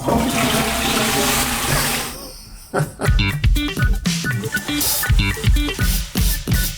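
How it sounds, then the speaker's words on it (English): A toilet flushes loudly and close with a rushing torrent of water, then turns into gurgling and refilling with a choppy, uneven rhythm as the bowl drains. "3, 2, 1, flush it."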